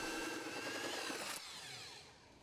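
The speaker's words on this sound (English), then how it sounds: "Then a 3-inch hole saw bores a hole large enough for the pipe." A 3-inch hole saw bores through a wooden rim joist, a close whirring, grinding cut that stops abruptly partway and leaves a fading ring.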